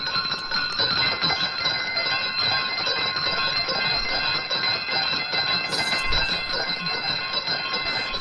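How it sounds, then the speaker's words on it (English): A bell choir rings handbells in a dense, continuous shimmer of overlapping metallic tones, sustained and fairly loud throughout with no clear melody. "They have a bell choir and they're trying to tune up."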